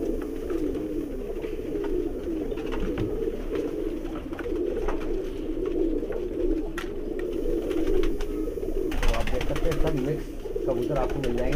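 High-flyer pigeons at a Bhopal sale coo in a steady, continuous low murmur that runs through the whole stretch, with people talking over it.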